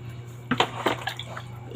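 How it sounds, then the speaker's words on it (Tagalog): Water runs into a bucket during early-morning laundry, a steady splashing fill with a few louder sloshes and drips close by. "punuin ko lang kung balde"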